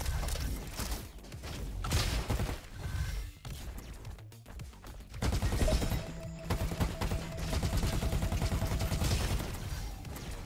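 Junk rifle gunfire in the Roboquest video game, heard as dense, loud bursts of rapid shots with mechanical clanks and crashes that continue almost without pause.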